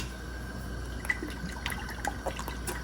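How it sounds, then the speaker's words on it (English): Water poured into a pot of braised short ribs, a quiet steady trickle with scattered small splashes and drips over low kitchen hum. "We put a lot of water in here now."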